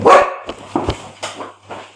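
A dog barks several times in quick succession, one loud close bark followed by a few softer yips and barks over a low steady hum in a workshop room.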